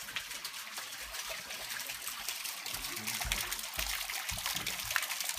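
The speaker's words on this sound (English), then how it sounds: "you fill your log up with water" Water runs steadily into a wooden log bathtub at a hot springs in Oregon, a soft continuous trickle and gush heard close but faint, with no voices.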